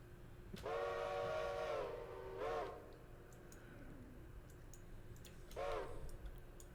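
Locomotive whistle in the train simulation game Railroader: a long harmonic blast, then a short toot and a later second short toot, loud and clear over a low rumbling engine with faint clicking.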